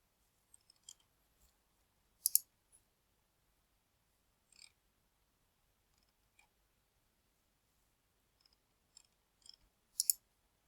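Sparse, faint computer mouse clicks, single and paired taps spaced a few seconds apart in an otherwise near-silent room.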